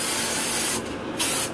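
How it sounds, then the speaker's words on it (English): Healthy Sexy Hair Soy Touchable Hairspray hisses out of the can in close, loud sprays, two bursts with a short break between. "So I'm just going to use a little bit of my Healthy Sexy Hair Soy Touchable Hairspray."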